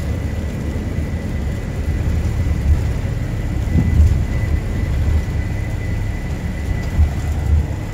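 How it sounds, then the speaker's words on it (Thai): Heavy rain and rumbling thunder heard from inside a tour bus heading south toward Surat Thani on the way to Koh Samui, a constant wash of rain with low rolling rumbles and a steady engine drone beneath. "ฝนตกตลอดเลยนะครับ"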